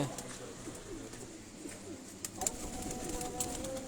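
Soft cooing of Teddy pigeons murmurs low in the background, with scattered clicks and faint rustling throughout.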